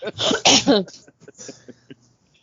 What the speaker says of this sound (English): I'm sorry for the coughs and the sniffles.